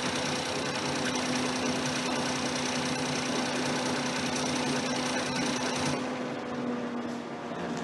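A Ford Fiesta engine runs with a steady, loud mechanical clatter and hum, then the sound drops and thins near the end as the engine is switched off.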